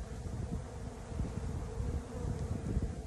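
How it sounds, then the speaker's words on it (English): Honey bees buzzing at an opened hive during a spring inspection, a dense steady hum of many workers and foragers close by, with a little wind rustle and no talk. "There's a lot of good bees on there, a lot of workers and foragers"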